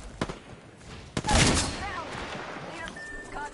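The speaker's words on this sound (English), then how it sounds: "I'm getting shot at" Gunfire aimed at the player in Apex Legends cracks in a few sharp shots and then a heavy burst of fire that fades into a lingering rumble, with voices talking over the action.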